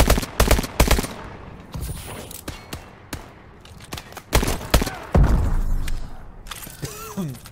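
Gunfire in a first-person shooter search-and-destroy match: sharp single shots and quick bursts crack out irregularly, some loud and close, with thuds and brief quiet gaps between them.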